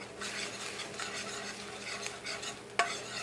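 Kaffir lime leaf sautéing in a pan for a spicy Thai beef salad, a close steady sizzle with stirring sweeps and one sharp utensil clink near the end.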